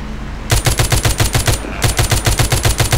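Rapid automatic gunfire from zombie shooting in the mobile game The Walking Zombie 2, loud close bursts of evenly spaced shots with a brief pause in the middle, no speech.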